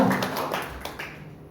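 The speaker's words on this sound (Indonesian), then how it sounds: "Yang setuju, tepuk tangan dulu buat Tuhan." Church worship congregation gives a short burst of applause, quick scattered claps that fade within a second or so, fairly quiet and with no talk over them.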